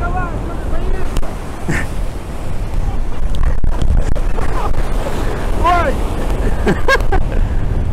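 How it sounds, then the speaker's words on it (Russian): Huge storm waves pounding a Crimean embankment, a continuous roaring surge buffeted by heavy wind noise on the microphone, with excited voices and shouts breaking through over the turbulent water. "Это очень-очень опасно волны действительно громадных размеров."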